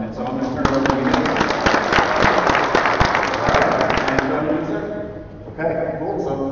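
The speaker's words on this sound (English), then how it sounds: "He loves the applause" A crowd at a live gaming convention presentation claps and cheers loudly for several seconds before the applause tapers off, with voices talking underneath.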